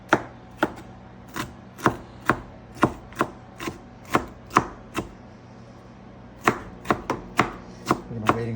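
A knife chops food finely on a cutting board while preparing American chop suey, producing a steady run of crisp, close knocks with a short pause midway and no voices.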